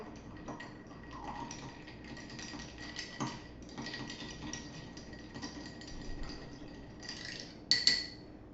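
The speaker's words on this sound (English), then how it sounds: "after I've got the ice in there, let it sit for a minute or 2, and I'm going to stir" A bar spoon stirs ice in an Old Fashioned cocktail, giving faint, irregular clinks and ticks of ice against glass, close and quiet, with a brighter clink cluster near the end.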